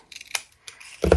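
Scissors cutting a folded paper tab: a few quick snipping crunches close up, then a brief pause and a heavier thump as the paper is handled.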